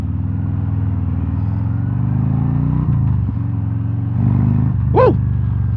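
A 2023 Harley-Davidson Road King Special with Chrome Works exhaust and a fat front tire rumbles loudly and steadily while riding, its deep engine note shifting slightly in pitch with a brief higher whine near the end.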